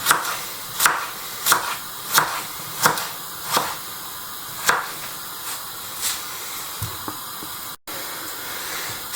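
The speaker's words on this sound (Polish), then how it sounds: "możemy sobie o taki kawałek boczku kroimy tak samo w grubą kostkę" A knife chops thick cubes of bacon (boczek) on a cutting board for Polish fasolka po bretońsku: about eight sharp, evenly spaced chops over a steady background hiss, with no talk.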